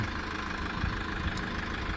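A 2016 Renault Master van with a 125 hp engine idles under an open hood, giving a steady, continuous low engine rumble with no talking.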